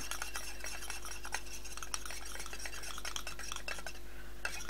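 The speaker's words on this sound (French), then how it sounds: "Je le mélange tout de suite, qu'il ne fasse pas le grumeau." A thick hair cream mixture is stirred briskly in a bowl, with quick, close, repetitive scraping and clicking strokes over a constant low hum, and no one talking.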